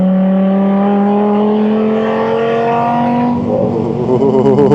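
Dodge Viper SRT10 ACR-X engine pulls hard on a racetrack, a loud, rising snarl climbing steadily through the gears before easing off, heard close and without talk.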